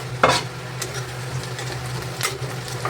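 Chopped green chillies frying with onions in hot oil in a pan, with a low continuous sizzle and a few clear spatula scrapes and clinks near the start and end.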